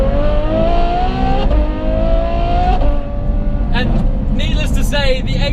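A Ferrari F12 with a carbon fiber body and a straight-through titanium exhaust revs loudly in a tunnel, rising engine tones sweeping up and down, with someone talking over the engine throughout.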